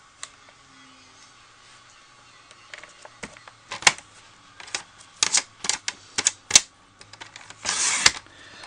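A paper trimmer cuts card stock to 10 by 7 inches with a run of crisp clicks and scrapes, growing denser and ending in a longer rasping slide of the blade, close and clear without talk.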